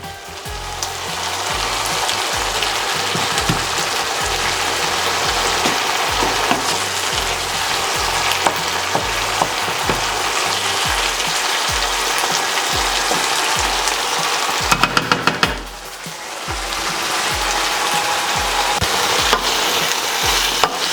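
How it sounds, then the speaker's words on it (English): Tomatoes and peppers for menemen, a Turkish breakfast dish, simmer and sputter in a pan with a dense, continuous sizzle, while a spoon scrapes and stirs through them in quick, repeated strokes; no talking. "We just let that simmer down a little bit."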